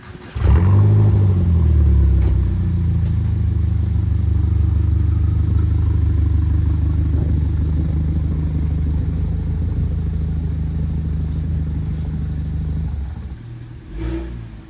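A BMW E92 335i with about 500 horsepower idles steadily after more than six months in storage, its engine catching with a brief rev at start, then settling into a constant close rumble before cutting off near the end.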